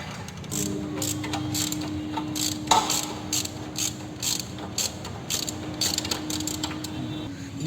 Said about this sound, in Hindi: यहाँ पे सबसे पहले हम लिंकेज का बोल्ट है उसे ओपन कर लेंगे